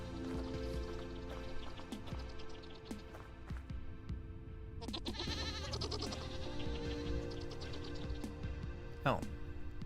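Goats bleating in the Vintage Story survival game, several short wavering calls scattered across the scene alongside drips and small splashy game sounds, with someone talking over much of it.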